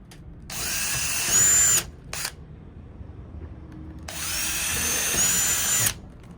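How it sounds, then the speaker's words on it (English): A power drill bores rivet pilot holes in two bursts, each a high whine that rises as it spins up. A short blip falls between them, over quiet background noise. "Now we're going to drill our pilot holes."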